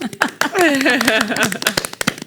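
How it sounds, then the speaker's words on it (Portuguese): A church congregation breaks into scattered applause, with sharp individual claps sounding under and around a person speaking close by. "Uma salva de palmas, igreja!"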